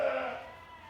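A single short ewe's bleat, loud and close at the start and trailing off within a second, on a farm where the ewe may have a dislocated hip.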